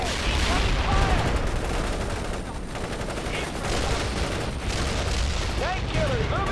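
Sustained battlefield gunfire in the World in Conflict: Soviet Assault video game, dense bursts and booms rolling continuously under radio-style voice chatter and explosions, loud and near throughout.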